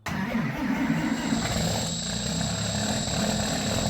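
A straight-piped Dodge work truck in Farming Simulator starts up and settles into a loud, steady, raspy exhaust drone that fills the whole moment with no talk.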